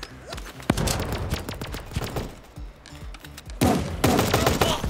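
Rapid bursts of gunfire and sniper shots ring out in a battle royale video game tournament match, sharp cracks and clattering volleys in clustered bursts with brief lulls between.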